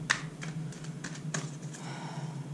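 Energy Oracle cards being shuffled by hand, a series of light, quick close-up taps and riffles with a faint steady hum underneath and no voices.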